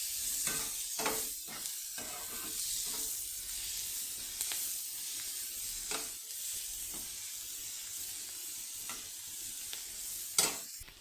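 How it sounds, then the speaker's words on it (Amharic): Onions sizzle steadily in a frying pan while being stirred, with a constant hiss broken by scraping strokes of a utensil against the pan, close and without speech. "ሽንኩርት በዛ ብሎ እንደዚህ ጠበስ እናደርገዋለን።"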